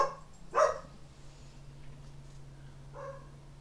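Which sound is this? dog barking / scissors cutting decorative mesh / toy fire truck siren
dog barking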